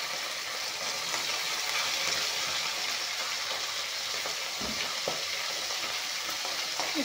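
Fish frying in refined oil in a pan, a steady bright hiss and sizzle with occasional soft pops and a light scrape or two, close and even throughout with no talking.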